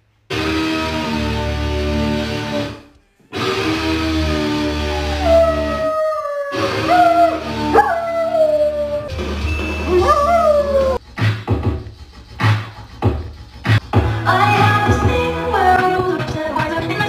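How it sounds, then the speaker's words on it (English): A dog howls loudly and continuously along with music, its long wavering howls rising and falling over a steady musical backing, with a brief pause near the start. "Having my dog rate music."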